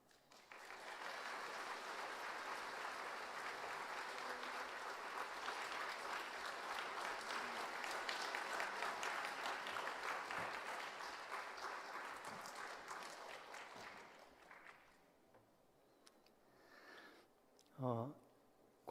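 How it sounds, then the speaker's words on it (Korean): A church congregation claps to welcome a visiting senior pastor at a Sunday service. Sustained applause runs for about fourteen seconds, then fades, and a voice begins briefly near the end. "우리 큰 환영의 박수로 좀 격려하면서 맞이해 줬으면 좋겠습니다"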